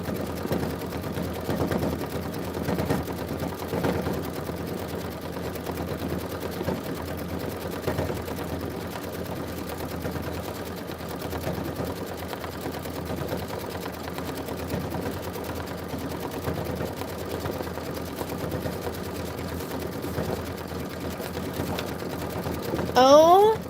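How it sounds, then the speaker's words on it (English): A home embroidery machine stitches out a Kimberbell Sippin on Sunshine design, a steady mechanical whir with rapid needle chatter running throughout, close and moderately loud, with a brief sharper rattle near the end. "Okay, 7 minutes of stitching on this one."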